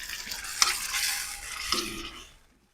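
Fish goes into hot oil with spices and lime juice, giving a loud close sizzle with stirring scrapes in the pan that fades out at the end.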